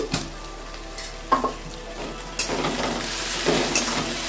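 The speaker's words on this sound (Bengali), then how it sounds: "এবার পেঁয়াজ, রসুন, টমেটোটা একটু কষিয়ে নিই ভালো করে" Onion, garlic and tomato fry together in a pan, a continuous close sizzle broken by several sharp spatula scrapes and clacks as they are stirred, no speech.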